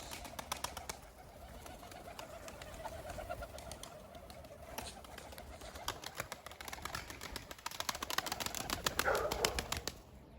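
Pigeons take off from a loft in bursts of rapid wing flapping, with soft cooing nearby and the flapping growing busier toward the end.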